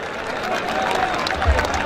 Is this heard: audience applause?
yes